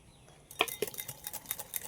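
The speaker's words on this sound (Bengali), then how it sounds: "আবারও সব একসাথে একটু ভালো করে মিশিয়ে নিচ্ছি" A utensil clinks and scrapes against a bowl while litchi ice cream cream is mixed with grated mango, a quiet start followed by a short run of light, quick taps and scrapes.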